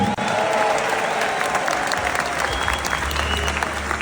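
A crowd of about 2400 people at the Olympia concert hall bursts into loud, sustained applause and cheering, a dense continuous roar of clapping and shouts filling the room.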